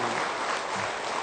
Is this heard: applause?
yes